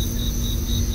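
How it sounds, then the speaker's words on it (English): Crickets chirp at night outdoors by a front stoop, a steady high pulsing trill repeating over a low background hum, with no voices. "we're just sitting out here listening to the crickets"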